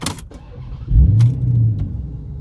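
A Chrysler 300C SRT8 with a 6.1L Hemi and Dynomax Race Bullets exhaust, heard up close: a few clicks, then a deep, throaty exhaust rumble swells and holds briefly before easing off, no talking.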